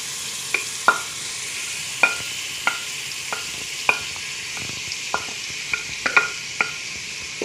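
Ginger and garlic browning in a pan while being stirred for steamed potatoes, with a steady low sizzle under irregular spoon scrapes and clinks against the pan, close and fairly quiet, no talking.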